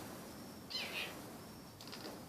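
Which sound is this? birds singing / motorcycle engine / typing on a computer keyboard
birds singing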